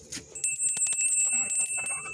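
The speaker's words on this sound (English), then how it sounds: "So I ring this little bell." A small hand bell rung outdoors near a chicken coop and run, a rapid series of bright, close metallic rings lasting about two seconds.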